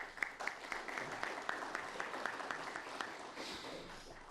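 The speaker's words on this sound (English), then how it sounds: "You can give him applause." An audience at a public meeting applauds faintly, with scattered individual claps within a soft, steady patter of hands that sounds distant and low in level.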